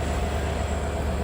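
An India-built diesel locomotive at an old colonial-era railway station in Sri Lanka, on the Colombo to Galle coastal line, gives off a loud, steady engine rumble with no pauses.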